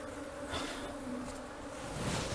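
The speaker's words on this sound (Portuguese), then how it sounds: "Olha como é que esse quadro aqui tá muito bonito. Muita abelha aí, ó." Honey bees swarm over a hive frame during a colony capture, their dense, continuous buzzing close and steady throughout with no talk.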